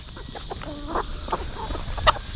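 Roosters with colorful turquoise and gold plumage give several soft, short clucks in a loose sequence, fairly close against faint outdoor background noise.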